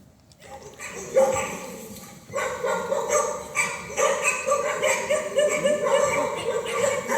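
Hunting dogs bark repeatedly in a dramatized Spanish reading, a string of sharp barks and yips mixed with what sounds like hoofbeats, fairly loud and close, while a voice speaks over part of it.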